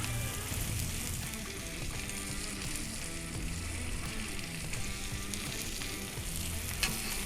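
A bone-in ribeye steak sizzles on a flat iron grill, giving a continuous, close crackling hiss with small pops throughout and no voices.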